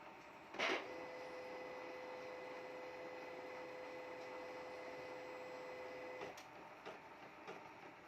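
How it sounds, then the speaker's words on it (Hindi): An HP Neverstop Laser MFP 1200a laser printer powers on: a sharp click, then a steady mechanical hum with a thin whine lasting about five seconds, followed by a few softer clicks as it settles. "ये प्रिंटर ऑन हो चुका है।"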